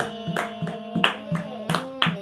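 Devotees clap in rhythm along to a Navratri bhajan, sharp hand claps landing in a steady pulse, roughly two per second, over sung melody and harmonium-like tones.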